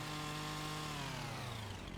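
A chainsaw delimbing a felled tree in Farming Simulator 25, its engine droning steadily and fairly faint, the pitch sagging slightly as the bar bites into the limbs.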